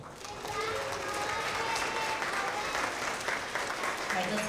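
Steady applause from an audience at a school assembly honoring TK and kindergarten award winners, sustained clapping at even volume with faint children's voices mixed into the crowd noise.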